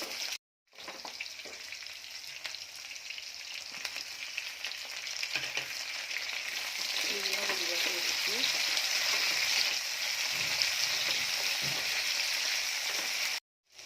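Ingredients frying in hot oil for sambar, a steady bright sizzle that builds and holds throughout, with occasional stirring clinks and faint background voices underneath.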